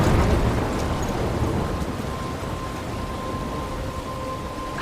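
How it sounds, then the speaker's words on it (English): Thunderstorm with heavy rain in the video game Life is Strange, a constant, loud hiss of rainfall over a deep rolling rumble of thunder that is strongest at the start and eases slightly. "I'm trapped in a storm?"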